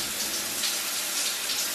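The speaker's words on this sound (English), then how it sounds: "Now I'm gonna take a quick shower and then go back to my gate." A shower at Incheon Airport Terminal 2 runs steadily, giving a soft, even hiss of falling water that stays constant and fairly quiet for the whole short stretch.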